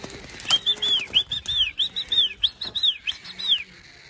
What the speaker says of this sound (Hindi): ये बाहर से कबूतर आए हुए हैं